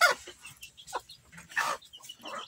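Chickens in a henhouse being cleaned let out several short, irregular clucks close by, quiet bursts separated by brief silences.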